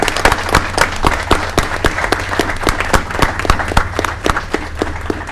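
Scattered applause at a city council meeting, a modest group clapping with distinct, fairly sharp individual claps in a loose rhythm, close and continuous for several seconds.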